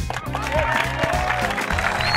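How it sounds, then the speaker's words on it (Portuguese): Applause from a small crowd mixed with steady music, the clapping dense and continuous for a couple of seconds with no voices over it. "Esse cara merece uma salva de palmas."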